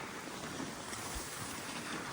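Steady rushing wind buffeting the microphone on a ski slope at Holosiivska hill in Kyiv, a dense broadband roar with no voices.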